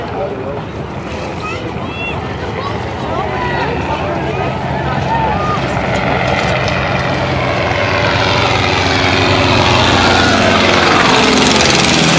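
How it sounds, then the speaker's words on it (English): Two propeller aircraft sweep past in a loose formation flyby over a bay, their broad engine drone rising steadily and growing louder as they near, with wind and water noise and crowd chatter beneath. "Two aircraft do a flyby to entertain the crowd until the parade starts."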